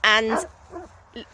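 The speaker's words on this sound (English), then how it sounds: "I don't know if you can hear the dog barking" Dogs bark at a doggy daycare in the next field, with one loud bark up close followed by a couple of fainter, shorter barks over low background noise.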